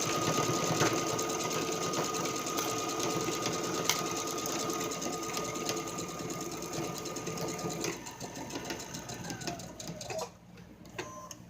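A home sewing machine runs steadily, stitching the seam of a robe with a continuous close mechanical whir, then slows and stops near the end.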